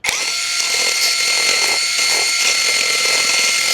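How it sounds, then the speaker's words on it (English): A power drill fitted with a sanding stone grinds against broken pipe fragments, a loud, steady high-pitched whine that starts abruptly and holds continuously close up with no pauses. "I'm going to use the sanding stone and my drill to clear these tough"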